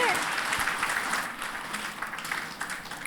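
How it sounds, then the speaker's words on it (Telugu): An audience at a three-day meditation gathering in Gudivada claps for Ravi, with dense, sustained applause that starts strong and then fades slowly over a few seconds. "ఒక్కసారి రవి గారికి మనం గట్టిగా క్లాప్స్ కొట్టుకుందామండి."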